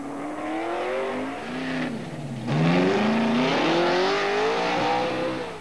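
An American stock car with a 5-litre engine of 400 to 500 horsepower races uphill at Pikes Peak, engine rising and falling in pitch through gear changes, loud and close, then revving hard as it passes.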